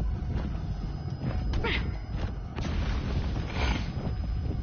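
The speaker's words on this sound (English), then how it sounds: "No, that is a mortar." Mortar explosions in the Metal Gear Solid video game, a dense, rumbling blast texture with several muffled booms across the clip, loud and sustained with no clear isolated impact.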